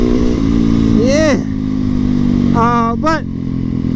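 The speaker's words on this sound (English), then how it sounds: "Gotta get some wheelie action over here." Motorcycle engine revving hard as a rider pulls a wheelie, a sustained loud roar with rising and falling pitch sweeps, while someone shouts briefly over it.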